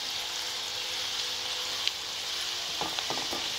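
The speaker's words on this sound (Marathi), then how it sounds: "एक अर्धा मिनिट कांदा छान परतून घेऊयात" Chopped onion sautéing in a pan, a continuous bright sizzle held at a steady level, with a few soft stirring taps toward the end.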